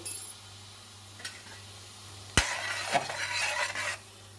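Mustard oil and dried chili powder go into a cooking pot. A sharp clink of a utensil on metal comes first, then a short burst of sizzling and stirring before it fades, with no talking.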